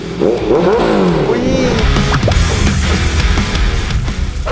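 A Honda CBR650F LED, a 2018 model fitted with an SC Project titanium slip-on exhaust, revs hard and close, its engine note rising in repeated sharp blips that fill the whole stretch.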